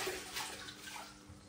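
A wet sponge washes water across freshly grouted wall tiles, giving a faint, soft swishing wash of water over the surface, brief and quiet with no talk.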